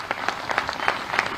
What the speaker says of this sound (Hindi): अगर खुश हो रेखा के मुख्यमंत्री बनने से तो एक बार जोरदार तालियां